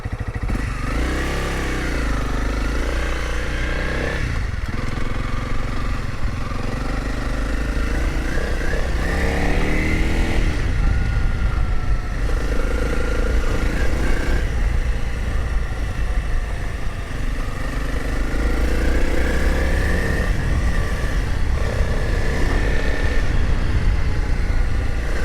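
A Honda CRF 300L dual-sport motorcycle, short S version, is ridden and accelerated, its loud single-cylinder engine revving up and shifting through gears with rising and falling pitch over steady wind rush, recorded close from the rider's position.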